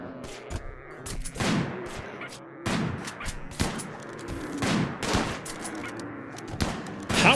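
Colonists firing guns in a Wild West Rimworld battle against sloths: a string of sharp, separate shots with irregular spacing, moderately loud, with some overlapping volleys.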